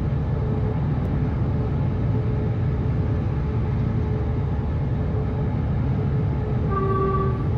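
A KRL electric commuter train runs steadily in Trainz Simulator Indonesia, with a constant rolling drone and a brief horn-like tone near the end.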